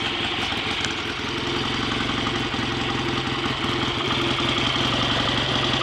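A BSA A65 Lightning motorcycle engine, freshly fully rebuilt, idles close by with a steady, even throbbing beat and no talk over it.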